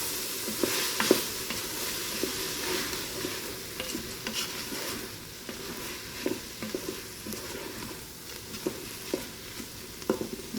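Garlic and salted vegetables sautéing in a Ninja Foodi pot, with a continuous moderate sizzle broken by repeated sharp clicks and scrapes of stirring, no voices.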